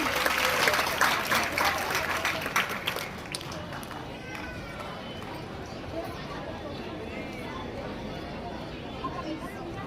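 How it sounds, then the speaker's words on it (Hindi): Audience applause greeting school dancers at a Mahabharat-themed dance performance at a government higher secondary school, a dense burst of clapping loud for the first few seconds, then thinning into a softer crowd wash. "जोरदार तालियों से स्वागत करें"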